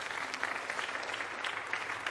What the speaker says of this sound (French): remercier chaleureusement les membres du jury, Hélène Romain, Jacques Rioux et Daniel Bénouville, que l'on peut applaudir.